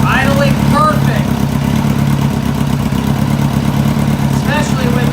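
A Kawasaki motorcycle engine idles steadily and close with its airbox off, a continuous rough rumble, while someone speaks briefly over it at the start and end.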